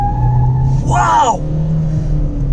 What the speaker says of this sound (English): I'm gonna launch the car this one time. Gonna rev it till about 4000 RPM.